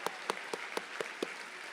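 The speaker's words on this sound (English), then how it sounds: "Let's give them all a round of applause." Faint, sparse handclaps from a small audience at a campus event, about six separate claps spaced evenly over under two seconds, distant and quiet.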